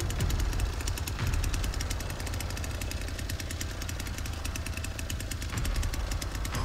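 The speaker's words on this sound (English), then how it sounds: "Look at my brand new chainsaw." A chainsaw runs in a video game, giving a loud, steady, rough engine drone that holds without a break from start to finish.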